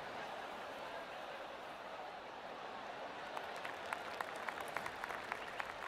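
Golf gallery applauding in the video game PGA Tour 2K23, a steady wash of distant crowd noise that breaks into scattered clapping toward the end.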